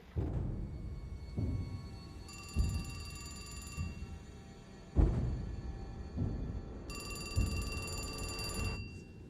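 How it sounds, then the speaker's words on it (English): Telephone bell ringing in repeated bursts, a steady pattern of loud, bright rings separated by short pauses, heard alone with no talk. "The phone rang."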